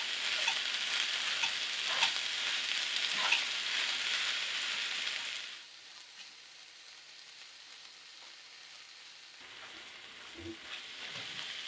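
Softened ingredient being worked into chicken in a skillet, a steady sizzle with stirring scrapes that drops to a quieter hiss partway through, then picks up slightly, no talking.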